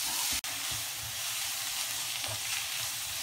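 Crushed ginger and garlic sizzle in a hot frying pan, a steady broadband frying hiss with a brief cut near the start, close and continuous with no talk.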